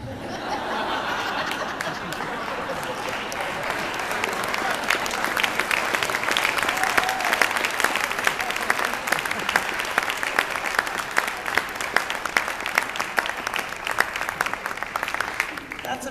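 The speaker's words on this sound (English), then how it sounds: "give these guys a big round of applause" A school audience applauds after a Q&A session, sustained crowd clapping that swells and stays steady, mixed with some laughter and chatter.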